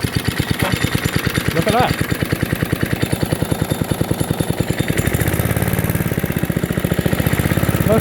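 An old Webb or Suffolk Punch lawn mower engine runs steadily close by with a rapid, even putter that grows fuller partway through, while someone talks excitedly over it.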